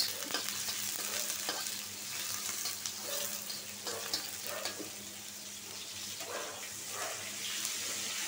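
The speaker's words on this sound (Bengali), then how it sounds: "পেঁয়াজটা লাল হোক।" Onions fry in hot oil in a thin wok, a steady close sizzle with faint stirring scrapes and a low hum underneath.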